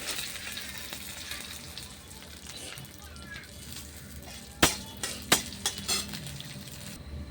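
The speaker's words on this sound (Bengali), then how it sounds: "তেল বসিয়ে দিয়েছি, কালো জিরা, শুকনো লঙ্কা দিয়ে দিচ্ছি" Black cumin and dried red chillies crackle and sizzle in hot oil for a cabbage-leaf paste, a low steady frying hiss broken later by a few sharp clinks of a spoon against the pan.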